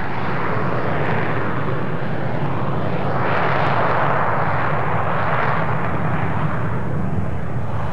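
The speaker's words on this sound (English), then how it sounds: "The Airbus A300 jet with 260 passengers and crew made a normal takeoff" Airbus A300 airliner making a normal takeoff, its jet engines producing a loud, continuous broadband roar that swells and surges steadily, heard close with no talk.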